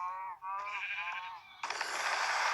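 Several nasal Minecraft sheep bleats in quick succession as the animals take damage, clear and close, followed by a harsher, noisier bleat.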